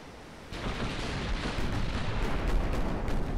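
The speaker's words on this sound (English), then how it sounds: "See all the guns take off." Battleship main guns fire in the naval warfare game Ultimate Admiral: Dreadnoughts, a sudden loud booming onset that rolls into a sustained, rumbling roar of gunfire and blasts with no speech.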